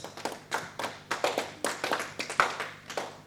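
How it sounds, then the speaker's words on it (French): An audience at a gathering in Lyon claps for a visiting professor, producing a modest, evenly paced run of distinct hand claps from a small group at moderate distance. "Nous pouvons l'applaudir, merci."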